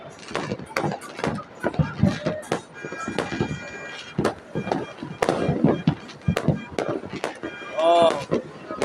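Fireworks go off over Baguio in a fast run of loud cracks and pops, some near and some farther off, with voices talking through the bursts.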